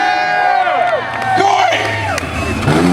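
Crowd cheering, whooping and yelling at a Burnyard Bash tryout burnout event, loud and continuous across the crowd, with an announcer's voice ringing over the din.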